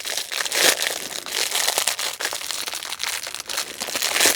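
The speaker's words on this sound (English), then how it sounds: "I'm going to get the crinkling out of the way" Gift wrapping paper crinkles and tears continuously up close as a present is unwrapped, a dense rustling texture with no talking.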